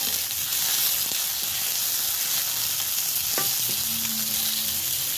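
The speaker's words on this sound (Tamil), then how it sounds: "இதை மட்டும்தான் வதக்கிக்கணும்" Tomatoes and dried red chillies sautéing in a pan over a wood-fired stove, a loud, even hiss with a couple of faint knocks and a brief tonal whine, close and continuous, no voices.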